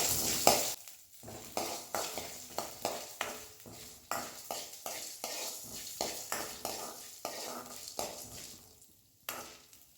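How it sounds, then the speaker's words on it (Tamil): Urad dal frying in hot oil while a spoon stirs it in a pan for chutney, a steady crackling sizzle broken by repeated scraping stirs, close and fairly loud with no talk. "நல்லா எண்ணெயிலே வந்து ரெட் கலராக வர்ற மாதிரி நல்லா வதக்கி எடுத்துக்கலாம்."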